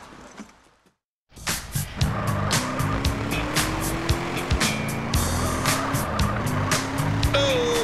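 A car in Grand Theft Auto San Andreas starts after a brief silence, then its engine revs up through gears with rising whines and tire squeals, loud and continuous throughout.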